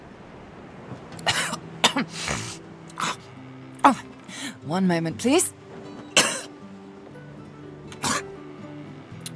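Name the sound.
character retching and coughing in video game Divinity Original Sin 2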